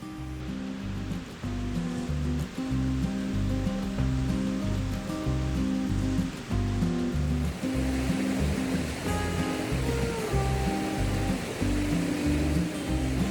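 Water rushes and burbles continuously, a brook flowing nearby in the White Mountains, with a full, steady wash of sound.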